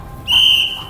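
A coach gives one short, sharp whistle blast at a school sports practice, loud and close, lasting about half a second.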